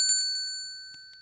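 A doorbell rings in a radio drama, a short bright bell with a few clear metallic chimes that ring out and fade, heard alone.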